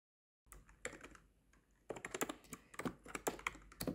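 Keys clack on a computer keyboard in quick irregular bursts, a short pause then a denser flurry of close, crisp taps, quiet and alone.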